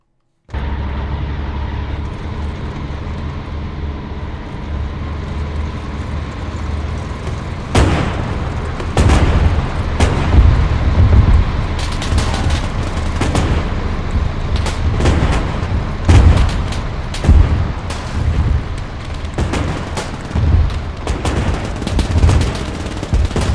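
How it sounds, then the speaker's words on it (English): Tanks rumble past in a World War II Battle of the Bulge battle scene from Arma 3, firing as they go: a low steady engine drone with repeated loud booming shots and bursts of gunfire, close and dense throughout. "we're gonna let the tanks drive past us while shooting"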